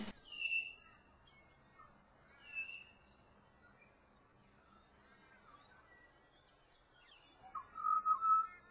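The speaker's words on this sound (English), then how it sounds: "the tone of this bird was so beautiful. It was sort of somewhere between a flute and an organ." A bird sings short, clear whistled phrases with a flute- and organ-like tone, spaced apart by quiet gaps in a calm outdoor setting.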